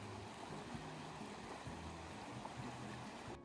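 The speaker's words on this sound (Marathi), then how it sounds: "डोंगरावरून येणाऱ्या बर्फाच्या वितळलेल्या पाण्याचा झरा आणि समोर असा निसर्ग" Snowmelt mountain stream near Seattle rushes steadily and close by, a dense, continuous broadband wash of flowing water with no voices.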